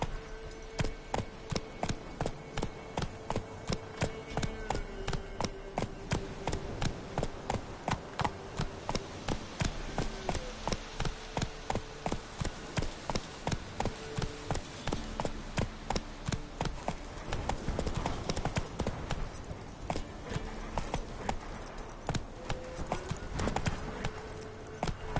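Roach the horse gallops in The Witcher 3, with rapid, rhythmic hoofbeats pounding steadily and close. The pace holds for the whole stretch, and a faint snort breaks in now and then.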